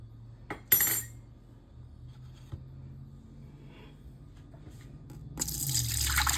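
Water pours into a cooking pot of beef neck bones with a bouillon cube, a soft steady stream with a few clinks, then a louder gushing splash near the end.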